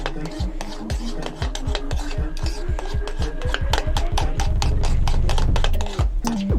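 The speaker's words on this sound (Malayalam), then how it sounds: "എന്നിട്ട് വീണ്ടും നമുക്കൊന്ന് ഇളക്കി കൊടുക്കാം." Cupcake batter with egg and cardamom powder is stirred briskly in a bowl, giving a steady run of rhythmic scraping and sloshing strokes, loud and close, with no talk.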